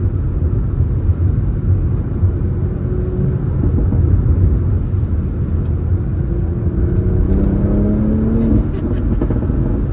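A Toyota GR Supra fitted with a BMS strut brace, driven through corners in sport mode, gives a steady loud engine drone and road rumble with slight rises in pitch from throttle changes throughout.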